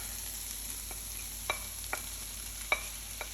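Spinach added to a hot pan, crackling under a low, even sizzle with a handful of sharp pops and utensil taps spaced a second or so apart, close and fairly quiet.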